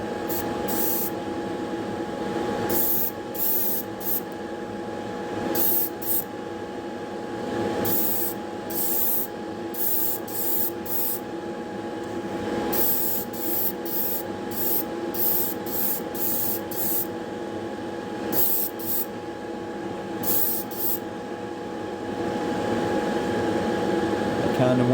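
Tamiya clear color paint hisses from a spray can onto a chrome-finished model car in repeated short bursts over a steady room hum, with a few quiet pauses between passes.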